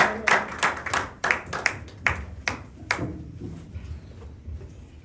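Congregation clapping at a Sunday church worship service in Sherbrooke, Canada: a burst of sharp, uneven hand claps, loud at first then thinning out over a few seconds.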